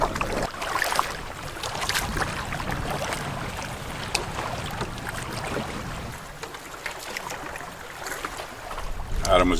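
A canoe drifts on a lake under a warm southern tailwind, with soft water lapping, occasional paddle and hull knocks, and gusty wind buffeting the microphone throughout.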